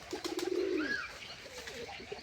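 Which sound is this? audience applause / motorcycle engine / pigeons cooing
pigeons cooing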